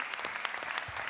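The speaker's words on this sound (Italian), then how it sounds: "Un applauso, grazie. Fateci sentire un applauso." Live audience applause at a music audition event, a dense, steady wash of clapping filling the whole moment with no voices over it.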